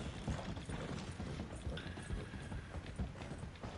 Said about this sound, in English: Just a whole bunch of carriages stuck on the road.